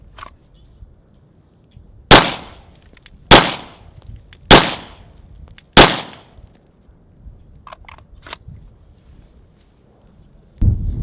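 Sharp handgun shots from a Sig 226, a 1911 Traditional Tacops and a Glock 34, four loud evenly spaced reports over about four seconds, then a pause before another shot near the end.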